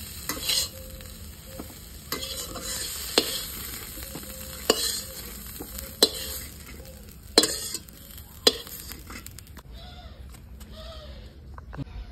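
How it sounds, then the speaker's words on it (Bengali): Cauliflower stalk chorchori stir-fried dry in a pan: a steady sizzle with repeated sharp scrapes and clacks of a spatula against the pan every second or so, close and moderately loud, with no talking. "ভালো করে বন্ধুরা ফুলকপির ডাঁটা চচ্চড়ি হয়ে গেল, এবার তুলে নেবো"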